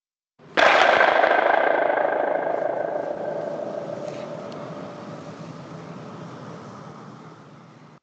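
A wooden plank slammed hard on the floor in a commercial room gives one sharp loud crack, followed by a long rattling echo bouncing around the space and slowly fading over several seconds.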